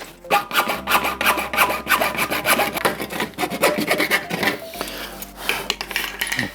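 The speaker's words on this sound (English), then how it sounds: "I'll take a hacksaw and cut that off." A hacksaw cuts through a window frame section in steady, rapid back-and-forth rasping strokes, close and loud throughout, with no talking.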